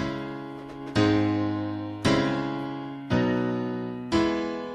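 Four sustained piano chords struck one after another at an even pace, each ringing and slowly decaying before the next, tracing the stately baroque Folia progression over a ground bass.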